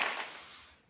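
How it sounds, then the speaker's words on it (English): A brief burst of clapping and applause swells at once and fades away within about a second, with no voices over it. "We just got an applause."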